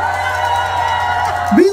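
Visitors from other regions at a concert cheer in a steady crowd roar of shouts and whoops, with a single voice rising sharply out of it near the end.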